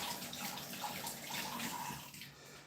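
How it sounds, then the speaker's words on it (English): Tap water runs from a faucet as hands are rinsed under it, a close, continuous splashing gush with slight shifts in flow over a few seconds. "Let me rinse my hands off."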